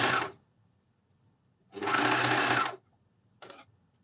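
Juki MCS1500 coverstitch machine sewing elastic onto knickers, running in three separate bursts: a short one, a longer steady whirring run, then a brief final burst, each close and clear with silence between.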